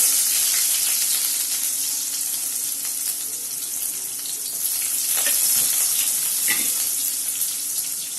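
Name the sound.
onion, garlic, ginger and fennel frying in oil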